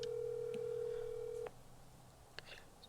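A telephone call is placed, with a steady dial tone holding for about a second and a half before cutting off, followed by quiet line noise and a faint click or two.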